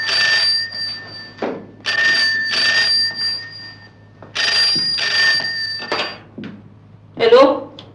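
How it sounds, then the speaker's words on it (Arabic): An old landline telephone bell rings in repeated bursts, loud and close, each ring roughly a second long with short gaps, followed by a few clunks like a receiver or drawer near the end. "تليفون عشانك"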